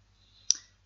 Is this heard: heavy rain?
no